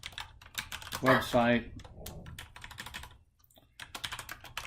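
Computer keyboard typing while entering text into a website builder, quick scattered key clicks under and between a man's speech, with a brief pause before a final burst of keystrokes.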